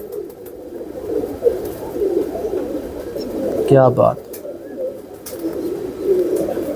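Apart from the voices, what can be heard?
pigeons cooing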